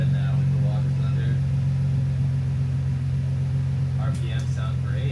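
A 2004 Nissan G35 coupe engine runs at a steady idle with a constant low rumble, close and loud, with a voice speaking briefly near the end.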